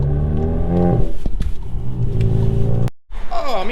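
A Volkswagen MK7 GTI passes by, its engine note rumbling and rising in pitch, then cutting out abruptly before a brief revving resumes.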